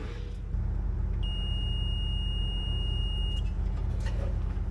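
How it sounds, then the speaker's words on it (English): A steady multimeter continuity beep sounds for about two seconds over a constant low mechanical hum while testing side-by-side wiring, then stops. "if the meter beeps, we're good"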